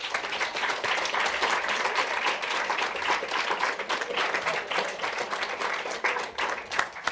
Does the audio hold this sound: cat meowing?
no